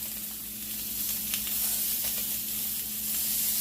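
Salmon fillets sizzle and hiss steadily in a hot pan, close and continuous, with a few brief scraping clicks as a piece is flipped and no talking.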